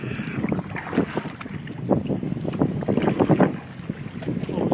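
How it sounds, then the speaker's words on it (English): Wind buffets the microphone on a boat trip across Lake Wellington, a steady rough roar with gusty rumbling and some water splashing, close and continuous. "So we're not protected from the wind on the lake."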